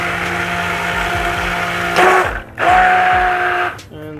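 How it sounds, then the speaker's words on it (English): A stick blender whirs steadily through cold process soap batter, then briefly surges and dips twice as it is pulsed in the container. "We will mix this, I'll stick blend it."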